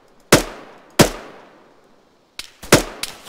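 Sharp, close gunshots fired with tracers in a military video game crack out one at a time, two spaced apart and then a quicker cluster of three, each with a short decaying tail.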